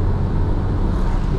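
A car engine pulls up a winding uphill road on the Puncak Bogor route, a loud, steady, low rumbling drone with road noise, heard briefly and without voices.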